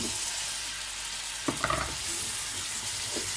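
Potatoes frying in a pan with a little beef stock, a steady broad sizzle running throughout, with a few brief stirring knocks midway, close and fairly loud.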